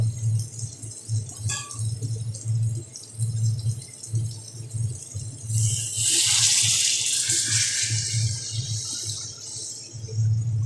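Water poured from a vessel into a cooking pan of egg and poppy-seed curry with boiled potatoes in a home kitchen, a rushing splash building midway over a steady low hum, no speech.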